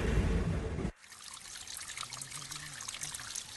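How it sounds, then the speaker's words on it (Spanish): Water of the Tinto river in Huelva province, Spain, red with carried metals, trickles and burbles softly and steadily nearby after a brief loud rushing burst. "Estas aguas pertenecen al río Tinto, en la provincia de Huelva."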